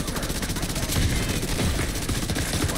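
Rapid gunfire in The Division 2 during a heroic control point fight, a dense continuous rattle of automatic shots over a busy battle din, loud and close throughout.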